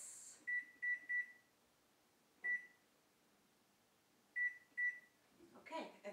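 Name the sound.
oven timer beeping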